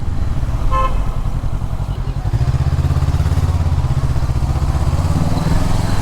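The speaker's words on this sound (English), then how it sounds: "Bike's engine is so smooth." A 2021 Honda 500X motorcycle engine hums steadily and close while riding, with a continuous low rumble and a brief horn-like tone near the start.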